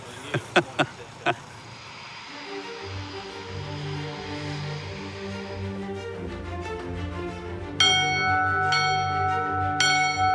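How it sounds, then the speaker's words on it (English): A World War II scramble bell struck in a few sharp, ringing clangs at an RAF flight line, followed by propeller aircraft engines starting and droning steadily, with further bell strikes ringing out over the engine noise. "It's the flight's tradition to ring a World War II scramble bell to let the ground crew know how many aircraft are ready to fly"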